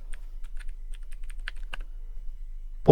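Commands are typed on a computer keyboard in an irregular run of crisp, close key clicks separated by short pauses, ending in a sharper keystroke, with no voice.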